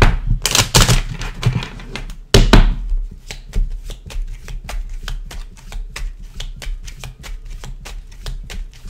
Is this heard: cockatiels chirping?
no